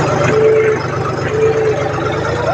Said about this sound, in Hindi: और ट्रैक्टर अभी भाइयों 10 के रेस पे चालू है